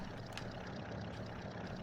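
A loud 6-liter V16 engine in the all-wheel-drive, roughly 900-horsepower Benevento Infernale from the BeamNG racing game, a steady dense roar filling the whole clip with no pauses or talk.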